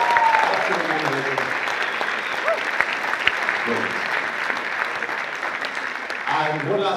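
A live audience at a debate event applauds and cheers for the Rally Committee, steady dense clapping filling the whole stretch, with voices and whoops mixed in at moderate volume.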